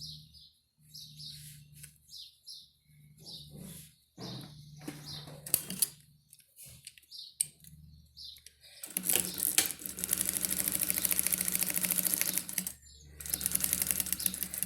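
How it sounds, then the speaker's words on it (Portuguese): A sewing machine stitching fabric and lining on three sides. Quiet handling clicks and taps come first, then the machine runs in a steady, close whirring buzz with one brief pause. "Pezinho de máquina e vamos passar a costura nos 3 lados."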